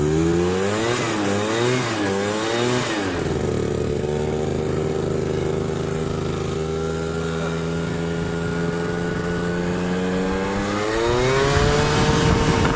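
An Aprilia SR 50 motard scooter's small two-stroke engine revs up and down in quick wavering bursts, then settles into a sustained high buzzing hold before rising again, loud and close with no voices.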